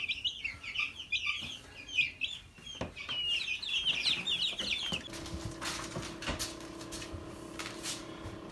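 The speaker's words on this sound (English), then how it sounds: "There's all 10 of our meat birds" Young meat chickens in a DIY temporary brooder, a burst of high peeping and clucking from several birds that fades after a few seconds, leaving faint knocks and low room hum.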